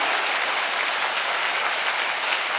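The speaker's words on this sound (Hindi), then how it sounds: "जोरदार तालियां हो जाएं" Many people clap hard and continuously at a training session, part of the crowd standing and part seated on the floor, a dense even roar of applause throughout.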